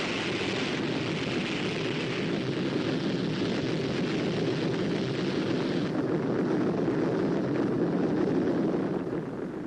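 A rocket launching right after the countdown, a broad continuous roar heard from a distance that holds steady for about ten seconds and thins slightly toward the end, with no talking.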